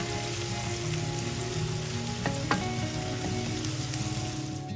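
Onions sizzle in a hot pan while cooking for a dry chicken roast, a dense close crackle with a couple of brief sharp pops and no talking.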